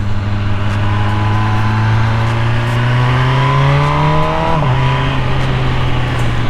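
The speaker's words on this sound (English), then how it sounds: "This is stock exhaust." A 2020 MV Agusta Brutale 1000RR with stock exhaust idles low, then revs up steadily with rising pitch before dropping back, close and loud with no talking.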